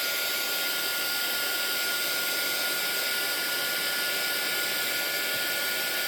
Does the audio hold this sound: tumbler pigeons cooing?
no